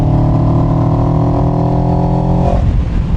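A motorcycle engine revs hard and steadily toward 6,000 RPM, climbing in pitch with a loud, close exhaust note before easing off near the end, on a bike that redlines at 8,000 and makes 74 horsepower.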